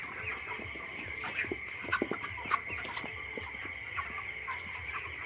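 Many chickens cluck and chatter continuously at night in a crowded two-storey poultry farm shed, a busy overlapping murmur with occasional louder squawks, against a faint electrical hum.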